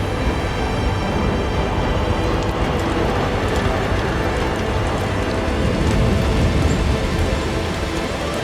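Steady, dense rain pours without pause in Death Stranding 2, a broad hiss of drops close by with no voices.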